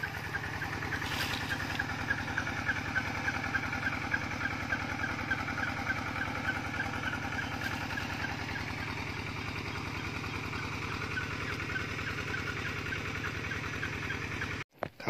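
An engine-driven water pump draws water from a garden pond, giving a steady, rumbling idle-like engine drone that runs continuously at close range before cutting off abruptly near the end, with no talking.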